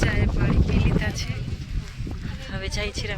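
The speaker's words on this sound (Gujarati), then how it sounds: "જો પવન બહુ છે" Strong wind blows outdoors in a village, a loud, buffeting rumble against the microphone that rises and falls in gusts under a person talking.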